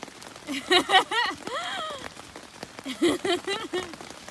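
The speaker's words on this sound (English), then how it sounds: "That's how bad the rain is." Steady heavy rain patters on a surface while a person talks over it in short bursts, the downpour sounding close and continuous, on a hike in near-40-degree weather.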